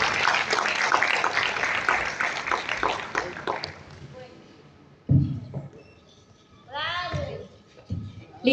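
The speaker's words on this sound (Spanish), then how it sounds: "Un aplauso a todos ustedes" Audience applause at a book presentation in Calarcá, Quindío, a dense wash of many hands clapping for about four seconds, fading out, followed by scattered noises and brief speech.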